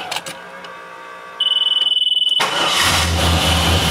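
A 1986 Chevrolet Monte Carlo SS cranking and starting: a steady warning chime sounds, then the engine catches and settles into a loud, rough low rumble close by.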